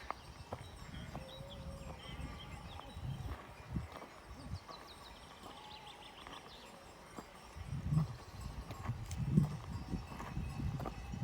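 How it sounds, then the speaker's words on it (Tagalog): A flock of sheep moves along on a Swiss farm, hooves clattering irregularly with scattered bleats, moderately close, with louder low thumps toward the end. "Ayan na ang parada ng ng tupa."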